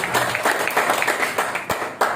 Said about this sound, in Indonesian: tepuk tangan dari PTBS.